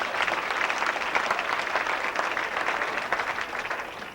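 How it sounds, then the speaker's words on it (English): Audience applause at a 1991 hypnosis comedy show, a steady crowd clapping for a stage volunteer that lasts a few seconds with no talking over it. "Give it a round of applause for being such a great volunteer."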